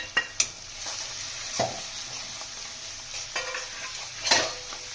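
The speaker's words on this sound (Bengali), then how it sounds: "আদা রসুন বাটাটা একটু ভালোভাবে ভেজে নেব, কষিয়ে মশলাটা দিয়ে দেবো, জিরে গুঁড়ো আর হলুদ গুঁড়ো" Ginger-garlic paste with ground cumin and turmeric frying in a pan, a steady soft sizzle with a few sharp scrapes and clinks of a spoon stirring against the metal, close and without talk.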